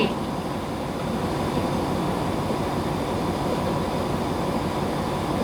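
A Thai-built luxury railcar rolls along on a test run, giving a steady, continuous rumble of wheels on track at close range with no talk over it.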